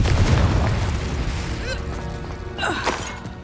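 A Confringo explosion spell goes off in Hogwarts Legacy: a heavy, booming blast opens the moment, followed by fading rumble and a couple of bright, sweeping magical whooshes.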